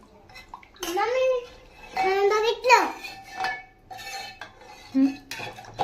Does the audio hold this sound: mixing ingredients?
yes